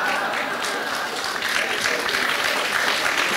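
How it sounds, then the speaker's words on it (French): An audience at a conference talk on Europe applauds together, a full, continuous burst of clapping sustained at a fairly even level throughout. "vous venez de trois fois de suite d'applaudir le pape François"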